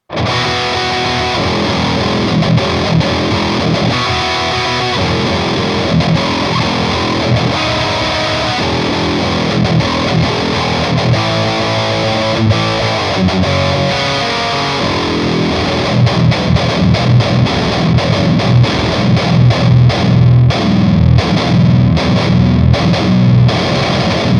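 Heavily distorted electric guitar chugs through tight palm-muted riffs with boosted gain, growing louder and choppier toward the end.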